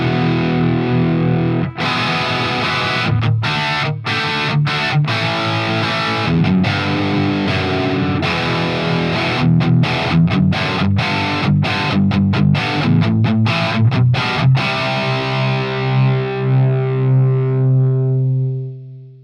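Electric guitar played through a Marshall JCM 2000 DSL 50 amp in lead 1 mode with the gain at 5, a loud distorted stream of chords and notes with choppy stops, ending on a sustained ringing chord.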